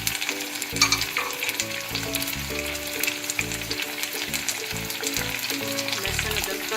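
Chicken karahi with tomatoes, dried chilies and salt frying loudly in a pan, a strong continuous sizzle with stirring scrapes, while faint background music plays underneath.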